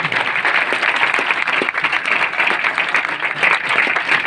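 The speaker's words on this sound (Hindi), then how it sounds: "एक बार शक्तियों के लिए जोरदार ताली।" A room full of people claps loudly and steadily, dense overlapping hand claps close by, for the loud cheer urged for the shaktis at a biomagnetic therapy talk, sustained with no break.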